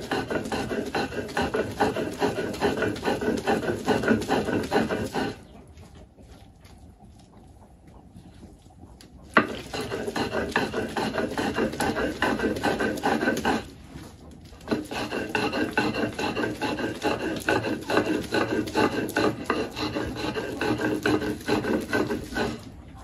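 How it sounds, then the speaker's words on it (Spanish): Rhythmic rasping scrape of food being ground by hand on a stone metate for beef huaxmole, continuous strokes broken by two short pauses, close and steady with no talk. "yo lo estoy moliendo en el metate"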